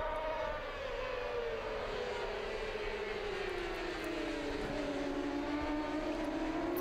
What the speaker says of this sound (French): le pilote de la Yamaha 94 accélère pour repasser 2e